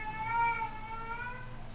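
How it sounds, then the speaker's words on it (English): A cat gives one drawn-out, tonal meow that wavers slightly in pitch over a low hum, close and fairly clear. "Meow."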